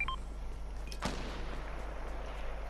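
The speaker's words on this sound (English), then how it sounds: "Oh, someone else is shooting." Gunfire in Fortnite, a single sharp shot that cracks out fairly loud and then fades into a long rumbling tail over a steady low background hum, with a few short game tones just before it.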